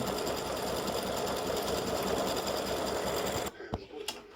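A sewing machine stitches a clover earring with a fast, steady, loud mechanical whir. The motor stops near the end, leaving a few faint clicks and handling noises.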